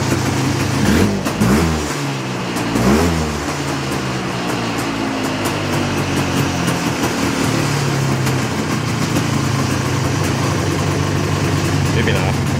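A rebuilt Polaris ATV engine revs up in a few rising and falling sweeps as it is bumped into gear, then settles into a steady, close idle.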